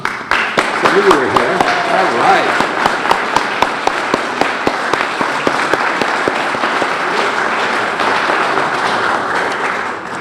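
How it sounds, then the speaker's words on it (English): An audience applauds at a city grant announcement, many hands clapping steadily with sharp individual claps standing out near and loud, and a person speaking briefly over it. "ask them to stand so we can give them a round of applause"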